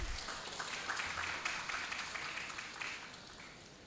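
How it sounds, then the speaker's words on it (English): Students at a university guest lecture applaud, a faint, even patter of many hands that stays fairly steady and then tapers slightly toward the end. "give applause for all of us."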